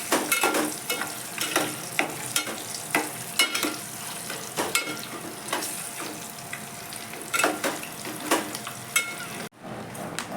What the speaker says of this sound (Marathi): पुन्हा त्याला फ्राय करून घेऊया.